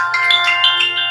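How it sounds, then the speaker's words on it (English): A mobile phone rings with a bright electronic melody of repeating tones, loud and close, with no speech over it. "Sorry, my phone."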